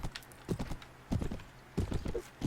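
Horse hooves clip-clop in quick irregular clusters during a video game cavalry battle, with a short neigh mixed in, fairly close and moderately loud.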